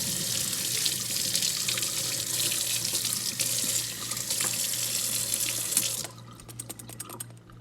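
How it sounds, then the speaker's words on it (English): Water runs steadily from a kitchen tap as cooking utensils are rinsed under it, a loud close gush that stops abruptly near the end and leaves a few faint drips and clinks. "And now we're gonna rinse them off."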